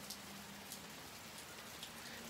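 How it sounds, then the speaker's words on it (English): Rain falling outside a house, a faint, even hiss with scattered soft drop ticks continuing steadily throughout, with no voices. "It's raining."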